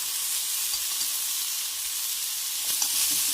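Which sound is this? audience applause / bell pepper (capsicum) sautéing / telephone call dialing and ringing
bell pepper (capsicum) sautéing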